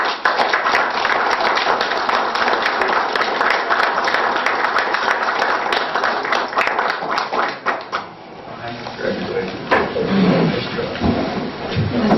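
Applause at a City of Canfield council meeting in Mahoning County, Ohio, with scattered clapping and sharp hand taps over a room murmur, thinning after about eight seconds as voices and talk take over.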